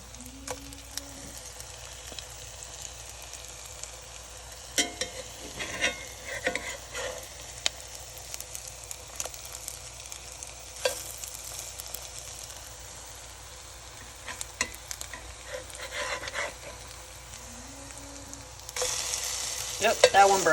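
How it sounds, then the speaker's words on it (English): Salmon patties frying in a pan, a steady close sizzle running throughout with occasional scraping and stirring clicks, growing louder and busier near the end. "pan fry them for about 5 to 6 minutes and then take a spatula and flip them over"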